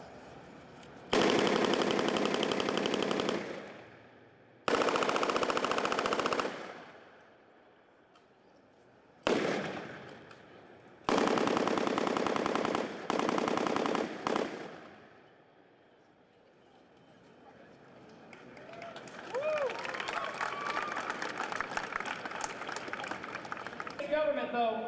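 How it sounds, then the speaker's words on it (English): A Thompson submachine gun, firing the M1A1 and then the M1928, rips off loud fully automatic bursts outdoors at a D-Day anniversary event, several sustained strings separated by pauses, with talking and crowd noise rising afterward. "To begin with, we're going to fire an M1A1 and then go to a 28."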